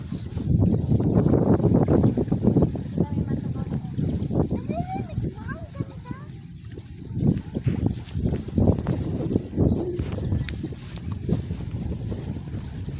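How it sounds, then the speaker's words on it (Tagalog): Wind rumbles and gusts against the microphone in low, uneven bursts, with people talking faintly beneath it. "mahangin."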